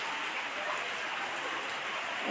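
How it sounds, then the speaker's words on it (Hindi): Steady, dense rain hiss fills the whole moment, a continuous broadband wash with no pauses and no voices on top. "ये बारिश हो रही है बहुत ज़बरदस्त"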